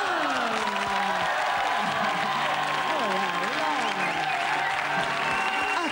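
Steady audience applause for Houdin the magician at a comedy stage show, continuous and full through the whole stretch, with voices and music tones weaving over the clapping.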